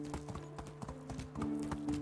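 Horse hooves clip-clopping at a steady rhythmic pace while riding in the video game Medieval Dynasty, with even, close hoofbeats over a low droning hum.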